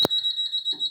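A fire alarm panel in a student house beeps during a reset: a steady, close, high-pitched electronic tone pulsing rapidly, with a short thump at the start.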